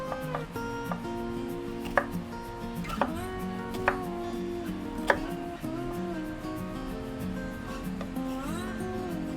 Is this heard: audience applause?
no